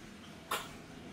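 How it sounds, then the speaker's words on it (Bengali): A child with a cold gives a single short cough, faint and somewhat distant, against quiet background hiss. "আবার কাশতেছে, ঠান্ডা লাগছে।"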